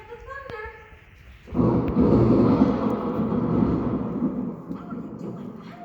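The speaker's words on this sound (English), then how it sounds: "And don't forget the thunder." Thunder sound effect during a stage play, a sudden low rumbling roll that swells in and fades out over a few seconds after a brief voice.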